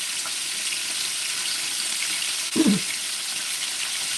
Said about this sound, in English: Vegetarian stuffed bell peppers and chicken thighs are frying up with lemon pepper.